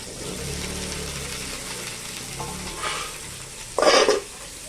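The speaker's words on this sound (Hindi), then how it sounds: "तेल पड़ा तेल टिके ताती गले कोबी आलू भाजवा ये कोबी आलू पड़ला" Cauliflower and potato fry in hot oil in a home kitchen, a steady close sizzle with stirring, ending in a brief louder burst of hissing.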